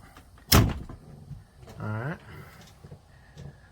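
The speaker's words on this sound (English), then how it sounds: "Now let's close the door. Gonna close the door." A houseboat's front hatch door pulled closed, one sharp loud thud early on, followed by a creaking squeal from the hinge or latch and small rattles, with someone speaking softly nearby.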